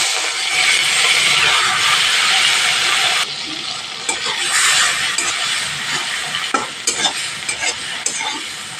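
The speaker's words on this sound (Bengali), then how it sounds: "তেল গরম হয়ে গেছে, দেখেই বুঝতে পারছেন ধোঁয়া উঠছে। এবার আমি চিংড়ি মাছগুলো দিয়ে দেবো।" Prawns frying in smoking-hot mustard oil for a thor ghonto: a loud, dense sizzle that steps down slightly about a third of the way in, then keeps crackling with scattered spits and utensil clinks.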